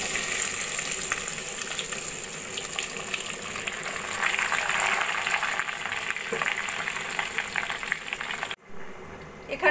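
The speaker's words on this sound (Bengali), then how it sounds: "এবার দিয়ে দেবো আমি ম্যারিনেট করা এঁচড় আস্তে আস্তে করে এই হাঁড়ির মধ্যে দিয়ে দেব।" Marinated jackfruit frying in hot oil in a pot for a kathal sabji, a steady close sizzle and bubbling that continues, then cuts off abruptly near the end.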